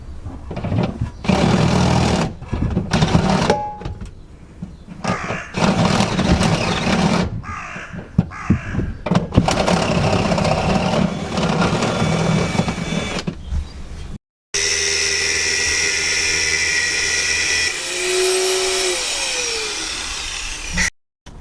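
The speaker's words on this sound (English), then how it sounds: "we're going to drill that hole a little bit deeper, and we're also going to cut this stud back" Power tools whir and grind on a metal stud in bursts, a drill buzzing in stops and starts while deepening a hole, followed after a short break by a sustained cutting screech as the stud is cut shorter.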